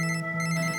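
A phone rings with a short electronic tone, a steady repeating chirp lasting under a second, clear and close.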